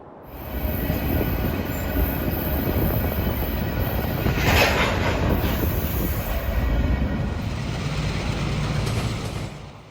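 Freight train helper locomotives in the Trainz simulator pull up and couple to the rear of a stalled train on a hill, with a steady rolling rumble, rail noise and a brief clank midway.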